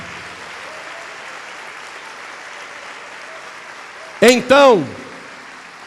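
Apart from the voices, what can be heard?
church congregation applauding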